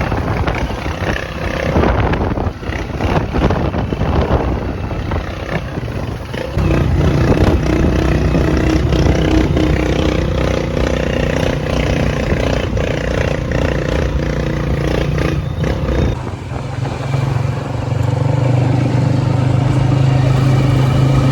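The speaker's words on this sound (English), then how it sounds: "another one of those taxi motorcycle and sidecar tricycle doodads in Manila as well" A motorcycle with a sidecar, running as a taxi tricycle, carries a rider through Manila, a loud steady engine drone with traffic noise around it that shifts in pitch as it changes speed, with some faint voices.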